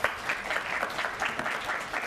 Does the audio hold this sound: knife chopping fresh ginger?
no